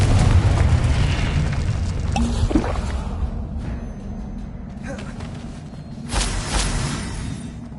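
A Confringo spell detonates in the Hogwarts Legacy video game: loud booming blasts burst out of a dense wash of game noise, with a second blast toward the end.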